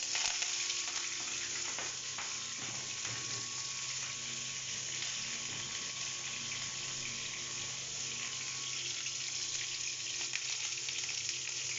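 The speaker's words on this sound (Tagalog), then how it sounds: "Lagay na natin ang ating sibuyas kasi brown na yung bawang." Chopped onion fries in oil alongside browned garlic for chicken liver, giving a continuous loud sizzle with faint stirring clinks and occasional sputters throughout, and no voices.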